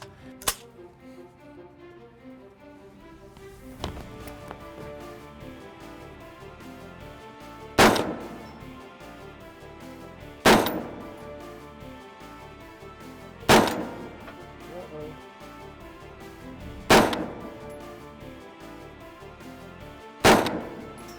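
Rifle fire at big and small targets from a 10-round magazine on an army range, with about seven sharp, loud single shots spaced a few seconds apart, each followed by a short echoing decay.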